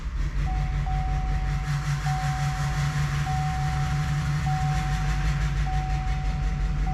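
A Rolls Royce engine being cranked on weak, partly dead batteries, a steady loud droning churn with a low rumbling hum and a faint repeating high tone, continuous and close throughout.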